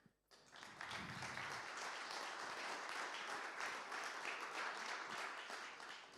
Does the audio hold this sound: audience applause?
yes